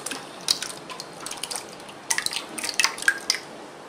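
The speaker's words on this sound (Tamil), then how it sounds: "16 முட்டை எடுத்து உடைச்சு அதை வந்து இப்ப நான் மிக்சிங் பவுல்ல ஆட் பண்றேன்" Sixteen cracked eggs sliding into a mixing bowl for Eid vattalappam, close wet drips, plops and light taps in scattered clusters, with no voices.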